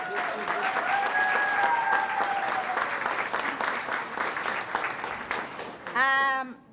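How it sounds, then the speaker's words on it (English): Sustained applause and some cheering from a crowd at a Khmer New Year celebration after a youth dance performance, with whistles or voices rising briefly and a loud warbling tone near the end. "Please give them another round of applause"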